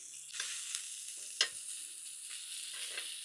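Steak sizzles in a cast iron pan with butter and crushed garlic, a steady close hiss with soft stirring scrapes and one sharp clack, no talking.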